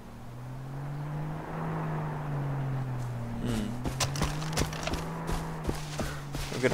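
In the Far Cry video game, a car engine drones past at moderate distance with a slowly rising and falling hum, followed by scattered sharp clicks and knocks.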